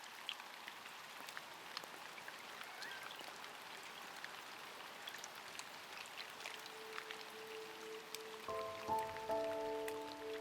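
Autumn rain falls steadily outside a cottage, a soft, even patter of drops on surfaces that continues throughout with a faint tonal hum appearing near the end.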